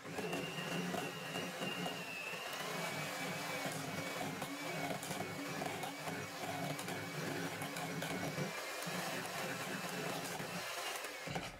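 A handheld electric beater whirs steadily, mixing sugar into cake batter for a soft red velvet cake, a continuous mid-level motor drone with slight fluctuations throughout, no talking.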